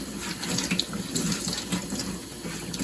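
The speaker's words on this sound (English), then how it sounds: "You're really just scrubbing it so that you get all the dirt off." Potatoes being scrubbed by hand under a running kitchen tap, a steady close rush of water into the sink with faint rubbing beneath it, and no talk.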